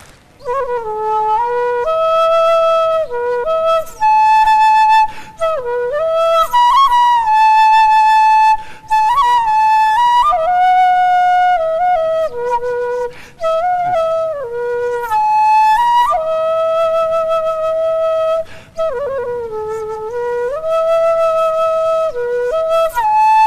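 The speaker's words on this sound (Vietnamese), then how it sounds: "Tiếng sáo là réo rắt lắm á nha, có thể là rung động lòng người ta đó" A Vietnamese bamboo flute (sáo) plays a loud, clear melody of sustained, bending notes with short breaths between phrases, heard alone and close.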